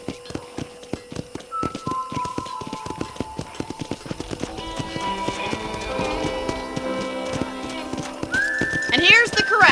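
Horses at a ranch corral in Red Dead Redemption, with clip-clopping hooves tapping in a rapid irregular rhythm, snorts and a whinny rising near the end, layered over a game music score.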